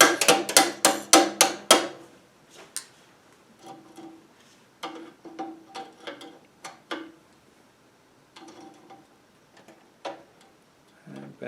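Hammer tapping a cotter pin through a washer on a Honda HSS1332 snowblower auger, a fast run of about six sharp metallic taps, then scattered lighter knocks and clicks close by.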